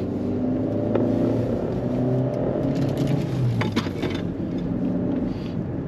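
A used petrol Audi A3 engine runs steadily and builds as the car drives and accelerates, with a continuous road rumble and some rattling from inside the cabin.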